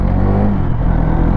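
Hero Karizma XMR 210 motorcycle pulling away in first gear, a loud, close, throbbing engine note that holds steady through a brief burst with no voices.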